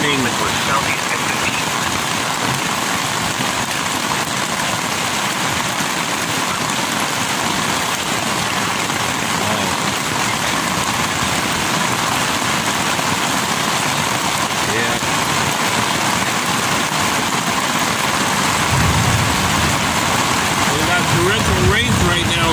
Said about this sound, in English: torrential rains right now, viewers.